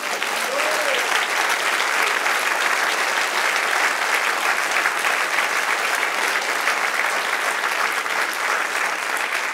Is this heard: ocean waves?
no